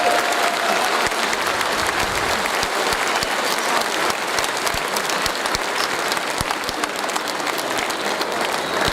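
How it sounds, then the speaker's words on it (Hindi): A crowd claps loudly and continuously at a Forever Living Products business event. The applause holds a dense, even wash of many hands, with scattered sharper claps throughout. "जोरदार ताली बजाइए।"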